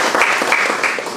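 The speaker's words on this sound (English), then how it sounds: "please give a big round of applause to all the generals and all the serving officers here" A military-session audience claps for generals and serving officers, brief dense applause at moderate loudness running throughout the short moment.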